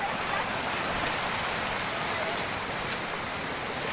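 The Chencha river at Phutabhog, in flood, rushes in a continuous, dense, roaring wash of water that stays steady and fairly loud throughout, with wind buffeting the microphone.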